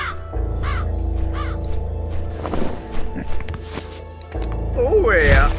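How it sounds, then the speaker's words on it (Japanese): A crow in the video game Hidden Dragon Legend gives a few quick caws early on and a louder caw near the end, set against droning game audio and a possible voice. "カラスちゃん。"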